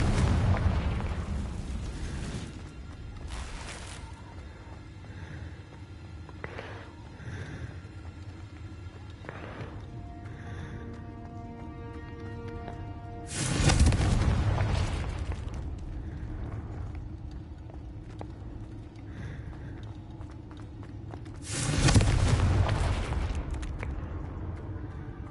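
Confringo spell blasts in Hogwarts Legacy: two heavy booming explosions, one mid-way and one near the end, each with a rumbling decay over a quieter bed of game ambience and faint chimes.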